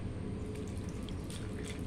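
Water splashing and trickling steadily as it is poured onto a plant in the morning, a brief continuous close pour with no talking.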